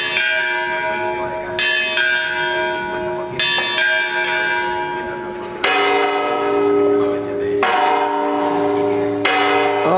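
A church bell on the Camino de Santiago between San Justo and El Ganso is struck by hand, loud ringing strokes every couple of seconds, each leaving a long shimmering, overlapping hum.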